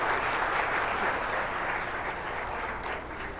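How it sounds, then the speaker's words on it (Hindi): Audience applause welcoming a Bollywood actor on stage at a public event in India, a continuous wash of many hands clapping at moderate distance, steady and slowly easing off, with no talk over it. "तालियां, थोड़ा जोरदार तालियां"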